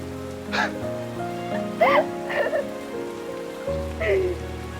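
Heavy rain pours down outdoors in a steady wash, with faint melodic tones running beneath it.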